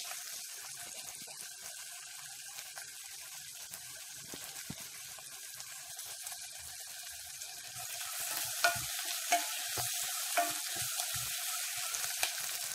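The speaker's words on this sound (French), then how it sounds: "Donc, je tourne les oignons." Onions fry in a pan for a chili purée as they are stirred, a soft steady sizzle with light scraping and stirring knocks that grow a little busier toward the end.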